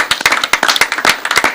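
An audience at a talk on a volcanic eruption claps briskly, a dense run of sharp close hand claps with no voices.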